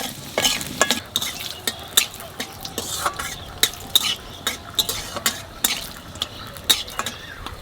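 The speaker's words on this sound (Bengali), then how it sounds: "তেলের উপরে দেবো 5 ফোড়ন" Five-spice tempering with dried chili and bay leaf frying in hot oil for a taro and Malabar spinach curry, a steady sizzle broken by repeated scraping stirs of a utensil against the pan, close and alone without talk.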